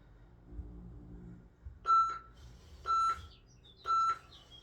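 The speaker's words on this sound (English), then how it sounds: "I'm going to turn that timer off" A workout timer beeps three times in a steady rhythm, each tone clear and evenly spaced, sounding alone in a quiet room after some low background rumble.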